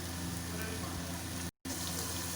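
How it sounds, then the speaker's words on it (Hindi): Finely chopped tomatoes going into a pan of fried ginger and oil, a dense steady sizzle close by, broken by a brief cut to silence before resuming. "अब हम इसमें 2 अदद दरमियाने बारीक चॉप किए हुए टमाटर डाल देंगे"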